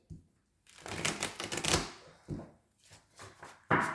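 Tarot cards handled and shuffled close up, a quick flurry of riffling and slapping for about a second, then scattered softer taps and a final sharp card snap.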